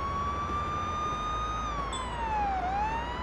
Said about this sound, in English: I have my sirens on.